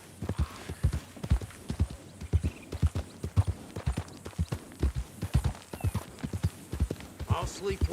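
Horse hooves clip-clop in a steady trotting rhythm while riding in Red Dead Redemption 2, loud and close, with a faint whinny and someone talking over the hoofbeats.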